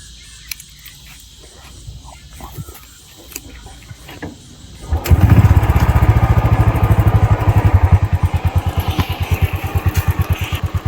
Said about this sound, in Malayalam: അപ്പോൾ ഇതാണ് എൻജിൻ്റെ ഒരു നോയ്സ്.